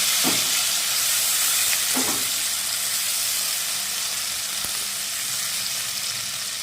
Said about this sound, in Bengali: একটা বড় টমেটো আছে কুচানো সেটা দিয়ে দিলাম দিয়ে একটু হালকা ভেজে নেবো